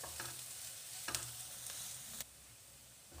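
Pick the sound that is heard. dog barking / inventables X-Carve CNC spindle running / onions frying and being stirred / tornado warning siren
onions frying and being stirred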